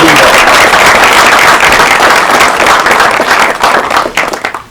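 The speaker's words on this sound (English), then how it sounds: "a big round of applause for Major Uqbah Malik" Loud, dense applause from a congress audience greeting Major Uqbah Malik, steady clapping that thins and fades toward the end.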